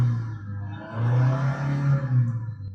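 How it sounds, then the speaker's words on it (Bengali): A 2021 Toyota Hiace Super GL engine is revved while parked, with a smooth low hum that swells into a sustained rise and then eases back and forth. It is heard close and fairly loud, with no talking. "আমি একটু রেভ করি, আপনারা দেখেন যে গাড়িটার ইঞ্জিন এখনো কতটা স্মুথ আছে"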